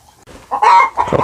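Chickens cluck loudly and close by on a farm, a short burst of a few sharp, throaty clucks with no talking.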